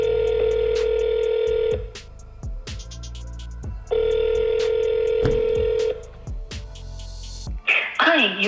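A telephone ringback tone repeats while a call is being transferred: two long, steady rings separated by pauses, with short clicks and rustles between them and a burst of noise at the end.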